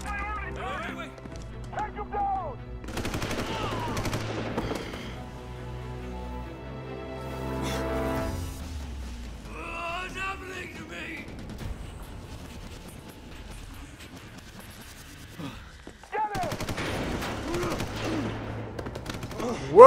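Gunfire in the video game Prototype rattles out in rapid bursts, heaviest early and again near the end, with someone talking over much of it.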